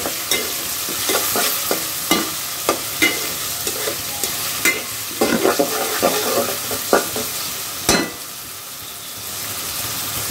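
Chicken pieces fry in hot oil with a steady sizzle, broken by repeated sharp clanks and scrapes of a spoon stirring the pan at close range.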